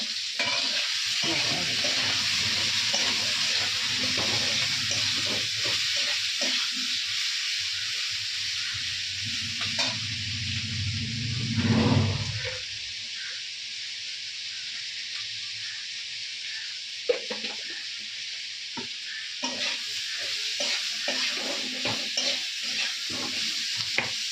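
Masala chicken fries in a hot pan, a loud, steady sizzle with repeated scraping strokes of stirring; the hiss drops briefly midway, then the frying resumes, close and without talk.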